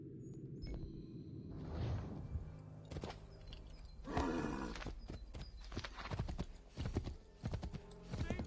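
Horse hooves clip-clop in Assassin's Creed III, a quick irregular run of close, sharp hoofbeats with a whinny partway through and faint game ambience behind.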